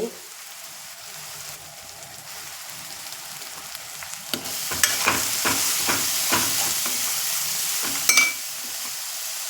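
Spices with turmeric being sautéed in a pan: a steady, soft sizzle with scattered crackles and occasional spoon scrapes and stirring clatter, growing busier midway, no voices.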